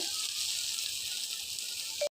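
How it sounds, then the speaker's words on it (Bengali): Shrimp sizzle while frying, giving a steady hissing crackle that holds evenly close by and then cuts off abruptly near the end. "এই যে চিংড়ি মাছ ব্যাং ভাজা হচ্ছে"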